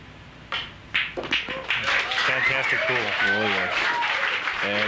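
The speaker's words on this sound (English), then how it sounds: "You can hear the crowd here applaud in appreciation for what Efren Reyes just did." A crowd at a professional pool challenge match breaks into sustained applause, with clapping that builds quickly and continues steadily while a commentator talks over it.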